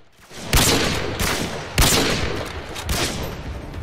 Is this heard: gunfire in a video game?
yes